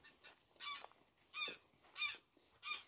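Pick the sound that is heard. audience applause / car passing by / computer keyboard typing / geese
geese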